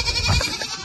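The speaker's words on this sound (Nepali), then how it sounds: "ए यो चाहिँ पोरजातको बोका हो सर?" A Boer buck goat gives a short, low bleat at close range, brief and alone against farm background noise.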